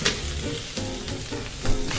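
Shiitake mushrooms and daikon radish stir-fry in an oiled pan over medium heat for radish mochi, giving a steady close crackling sizzle with a few stirring scrapes, while a melodic backing tune plays underneath.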